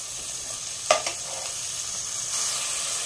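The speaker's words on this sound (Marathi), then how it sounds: "थोडासा गॅस मोठा करायचा आणि आता हे छान परतून घ्यायचं वाटाणा" Green peas sauté over raised heat in a pan, giving a continuous soft sizzle with one or two quick scrapes of a spoon, and the hiss swells slightly toward the end.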